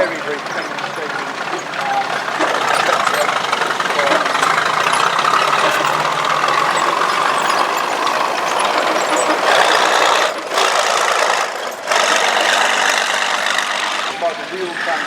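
Engines of WWII armoured vehicles, a StuG III assault gun and a Nashorn tank destroyer, run steadily at a tank display, a broad continuous rumble with a brief dip near the end.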